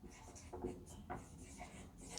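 A pen scratches across paper in short strokes while chemistry notes are written, soft and close, layered under a low room hum.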